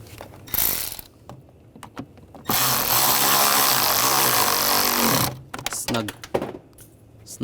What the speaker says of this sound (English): Snug that down and put the other screw in on the other side.